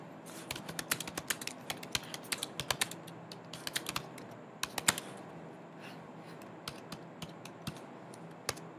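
Someone types on a computer keyboard in a quiet room, producing a fast, irregular run of crisp key clicks with brief pauses between bursts.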